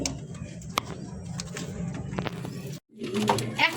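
Pet pigeons cooing at a pigeon seller's loft, a soft low repeated coo close by with a few sharper bird calls, briefly cut by a short pause near the end.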